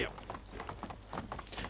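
Horse hooves trot in Medieval Dynasty, a faint, steady clip-clop rhythm running throughout with quiet speech mixed in.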